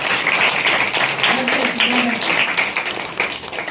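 An audience in a church service claps steadily for a child, a dense wash of applause that stays loud throughout, with a voice speaking faintly underneath.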